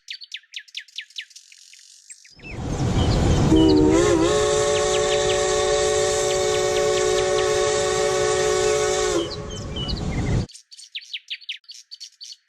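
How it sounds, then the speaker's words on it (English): A train whistle sounds in a Thomas and Friends fan film, a long sustained tonal blast after a rumbling start, loud and close, with bird chirps before and after. "there was a whistle"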